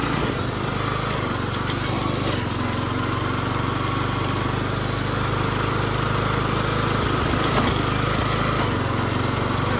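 A custom John Deere racing lawn mower runs flat out, its small engine holding a loud, steady high-revving drone close by for the whole stretch with only slight dips in pitch.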